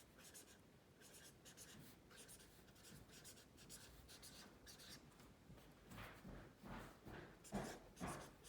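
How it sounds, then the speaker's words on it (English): A pen scratches across paper in steady rhythmic strokes, soft and close, growing somewhat louder and more vigorous toward the end, with no talking. "Just making that scratching noise of my pen."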